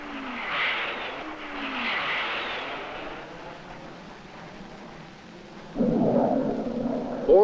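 Military planes dive to attack during a 1964 joint U.S.–Iran exercise, jet engines sweeping past in rising and falling roars, followed by a louder, rougher burst of engine noise near the end.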